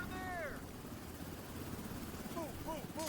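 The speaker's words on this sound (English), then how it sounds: "Chopper comes in." A helicopter arrives in a first-person shooter game as enemy reinforcements, a low engine and rotor drone running under game effects, with several short rising and falling electronic tones.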